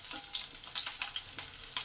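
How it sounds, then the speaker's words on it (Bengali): Nigella seeds and green chillies sizzle steadily in hot oil in a pan, a soft continuous frying crackle with faint stirring, close and fairly quiet, no voices. "তেল গরম হলে তেলে দিলাম কালো জিরে, কাঁচা লঙ্কা।"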